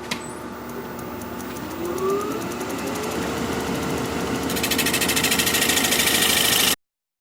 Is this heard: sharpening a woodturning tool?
yes